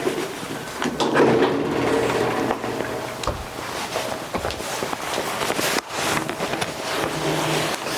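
A YA-10EB stainless steel surgical operation table rolling across the floor on its four base wheels, a steady close rumble with a few knocks and a brief clunk near the end.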